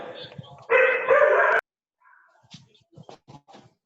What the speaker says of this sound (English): Please tell your dog to stop barking